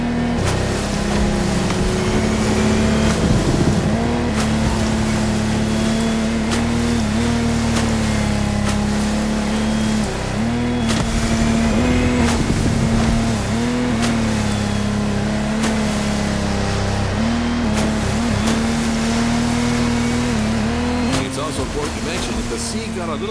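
A powerful offshore racing boat engine in a video game (The Crew Motorfest) drones steadily at high revs throughout, with slight pitch wobbles as it bounces over turbulent sea, loud and unbroken.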